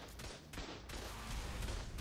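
Rapid bursts of cannon fire from a video game, loud and continuous with dense booming blasts and no voices.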